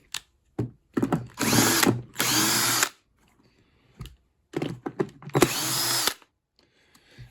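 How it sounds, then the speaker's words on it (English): A power drill with suspected worn motor bearings runs in several short bursts separated by silences, each burst a loud whirring spin with a rough slapping rattle, up close. "I don't like that slapping noise off that drill."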